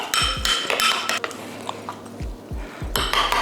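Sauce ingredients with lemon juice are mixed in a bowl: a utensil scrapes and clinks against the bowl in quick irregular strokes, close by, with short pauses between bursts of stirring.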